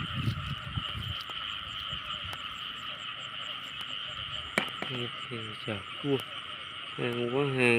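Frogs croaking at night in a flooded rice field, with a steady chorus of calls and a dense insect-like drone. Nearer frogs give repeated throbbing croaks that grow louder toward the end, with no clear talking.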